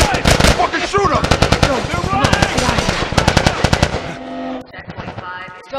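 Rapid automatic gunfire in The Last of Us Part 2 video game, dense bursts of loud shots rattling for about four seconds before tapering off, with shouted voices mixed in.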